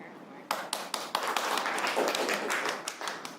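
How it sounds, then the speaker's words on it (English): A small class claps for a student, scattered individual hand claps starting sharply and building into a brief, modest round of applause, fairly close and with no talking over it. "Let's give Zoe a round of applause for explaining her"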